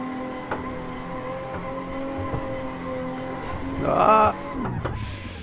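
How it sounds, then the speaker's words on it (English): Tuned stage 3 BMW 1M on a hillclimb, engine humming steadily before a short third-gear burnout where the tires squeal loudly for about a second, then the engine note carries on. "Third gear burnout."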